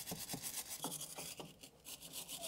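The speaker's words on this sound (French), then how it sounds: "Donc WD-40, brosse métallique." Wire brush scrubbing a seized steering rod nut coated in WD-40, giving a close, continuous raspy scraping with quick back-and-forth strokes.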